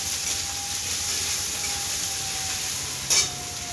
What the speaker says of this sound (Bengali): তো একটু নুন দিয়ে দিলাম, কারণ আদা বাটা দিলে তেলটা ছিটকায়, একটু নুন দিয়ে দিলে ছিটকায় না।